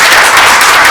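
A brief, loud burst of audience applause fills the room at an organizational meeting of a Gresik bird-contest association after a chairman's election, dense and continuous.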